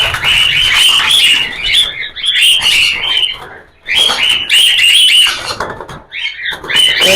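A pair of cockatiels chirps loudly and close by in repeated shrill, scratchy bursts, with brief pauses between the calling runs.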